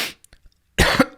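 A man coughs twice in quick succession at close range, the bursts loud and harsh, after a faint hiss and a few small clicks in an otherwise quiet room.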